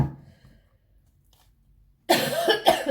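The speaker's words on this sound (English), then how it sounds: "Sorry about my coughing." A burst of several harsh coughs close to the mic after a quiet pause, loud and clustered in quick succession.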